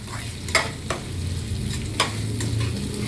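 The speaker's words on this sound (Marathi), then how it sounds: "शिजवून घेतल्यावर एक मस्त असा घाटा मारायचा" Onion and garlic frying in a pan for soybean chilli, stirred with a few sharp scrapes over a steady low sizzle, no voices.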